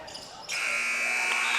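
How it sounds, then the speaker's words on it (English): The final buzzer at a high school boys' basketball game between Owosso and Corunna cuts in after a half-second of crowd noise and holds as a loud, steady electronic tone over the arena din. "That's the buzzer for the final sound."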